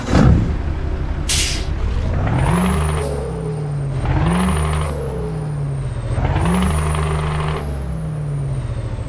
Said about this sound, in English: let's get this Scania started up so you can hear these beautiful sound sets